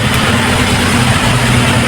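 Toyota Revo engine with automatic transmission idling steadily after starting, a loud, even low rumble heard alone without talk.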